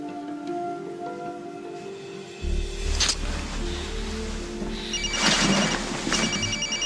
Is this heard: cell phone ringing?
yes